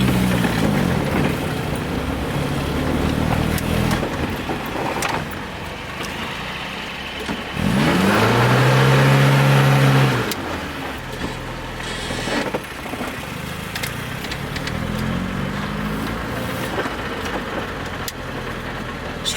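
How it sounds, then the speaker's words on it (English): An MG Midget 1500 drives uphill, its engine droning steadily from close inside the car. Midway it revs hard in a loud, rising surge, then settles back to a lower drone. "I had to rev it a lot then because I was on a hill"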